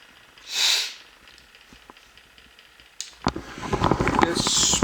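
A single sharp sneeze bursts out near the start, followed by a stretch of quiet room tone, then rustling, handling noise and a second breathy burst toward the end, with a person nearby.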